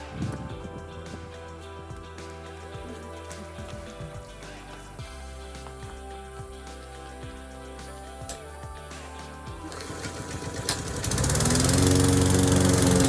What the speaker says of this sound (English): I really don't mind mowing